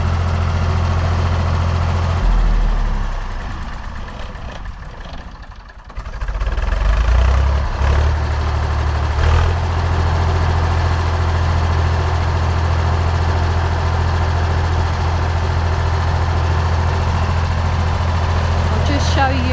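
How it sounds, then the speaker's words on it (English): A rotary tiller's engine runs steadily on a farm, a loud continuous low drone with a brief dip partway through before it returns to full, even power. "I'll just show you from the side how the tiller works."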